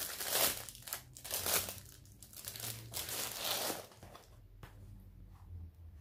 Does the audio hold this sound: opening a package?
yes